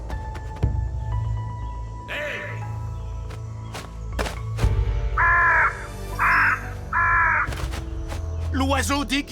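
A crow caws in three loud, harsh, evenly spaced calls, close and clear over a low hum, with scattered thuds and other sounds around it.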